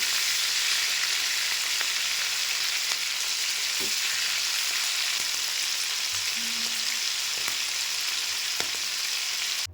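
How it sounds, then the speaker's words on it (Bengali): Prawns fry in a pan for a Bengali prawn malai curry, making a constant, fairly soft sizzle and crackle over nearly ten seconds, with a few faint knocks and no speech. "চিংড়িটা ভালো করে ভেজে নিই।"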